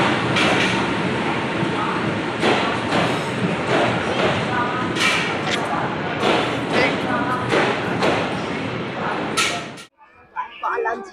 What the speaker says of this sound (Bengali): তো আমরা ট্রেনে উঠে পড়েছি আমাদের ট্রেন সবে ছেড়েছে পাঁচ মিনিট হলো